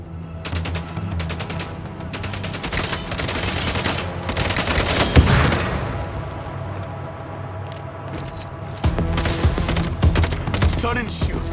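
Bursts of rapid automatic gunfire in the game MindsEye, sharp cracking volleys that come in clusters with a short lull in the middle, over a rumbling vehicle-like background.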